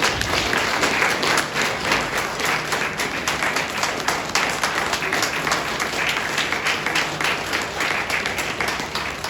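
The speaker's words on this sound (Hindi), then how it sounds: "पुरस्कार के लिए एक बार जोरदार ताली बजाते हैं।" An indoor audience at a business plan launch event claps loudly and steadily, dense sustained applause from a large crowd filling the whole stretch without letting up.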